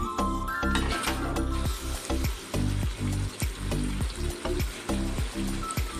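Spices and premixed sauce frying in a pan for homemade chilli chicken, a loud close sizzle broken by rapid rhythmic scraping and stirring strokes.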